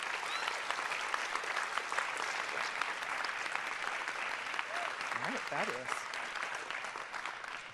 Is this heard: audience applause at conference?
yes